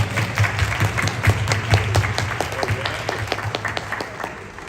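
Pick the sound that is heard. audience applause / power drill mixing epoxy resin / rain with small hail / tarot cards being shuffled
audience applause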